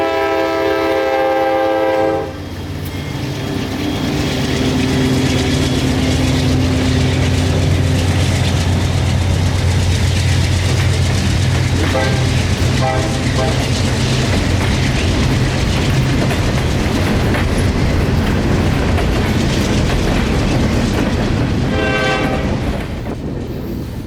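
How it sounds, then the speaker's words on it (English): Local freight train Y103 on the Palmetto Subdivision rolls past close by, opening with a loud horn blast and then a sustained rumble and rhythmic clatter of railcars, with further horn sounds near the end. "The train in the siding was Y103, a local train that goes south on the Palmetto Sub"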